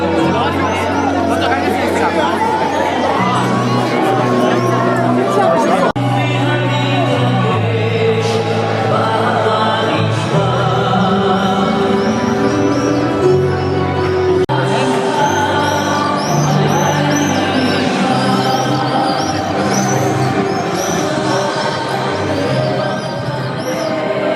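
Dense crowd noise fills a street in Jerusalem, a steady loud babble of many voices close by with music and movement mixed in, and a voice speaks over the hubbub.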